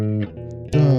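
Electric guitar playing a brief run of single picked notes in a four-finger exercise, clear and close, a few notes stepping in quick succession.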